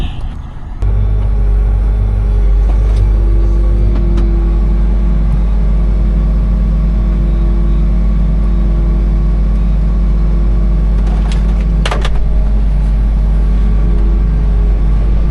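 A tractor pulling a corn planter drives through a field, heard from inside the cab as a loud, steady low engine drone and rumble with a few brief rattles and clicks, no talking.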